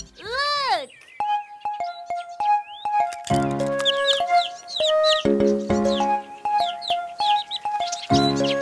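Cartoon birds chirp and tweet in a Swahili children's animated show, bright rapid calls and squeaks layered over a playful musical score, with a voice briefly heard.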